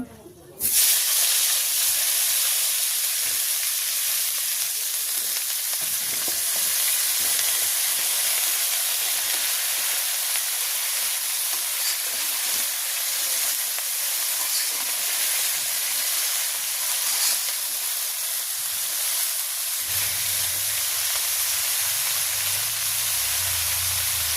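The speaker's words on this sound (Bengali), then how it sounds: "এখন দিয়ে দেবো ফুলকপি ফুলকপিটা ওরকম ভাজি করে নেব" Cauliflower frying in a pan during village cooking, a loud, steady sizzle and hiss that holds without a break, with a low rumble coming in near the end.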